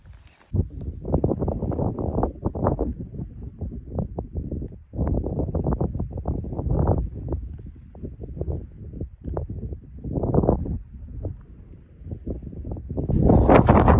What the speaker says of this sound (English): It's just a little windy.